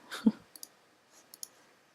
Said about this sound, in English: Clicking on the wrong buttons here.